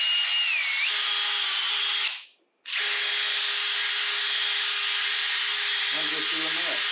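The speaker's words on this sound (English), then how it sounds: "chuck it up in that drill bit like that, chuck it up in the drill chuck like that," Power drill spinning a screw chucked in it while the screw is polished on a scotch pad, giving a steady high whirring hum that cuts out briefly, then restarts.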